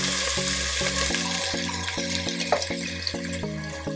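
Cumin seeds for a Fiji-style lamb curry fry in a hot pan, giving a close, steady sizzle and crackle under a pulsing low hum from the stovetop.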